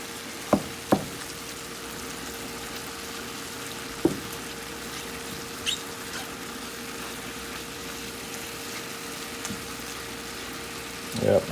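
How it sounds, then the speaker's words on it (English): Ground meat browning in a pan for crock pot chili, a soft steady sizzle with a few sharp clinks of a utensil against the pan. "And our meat is browning up nice."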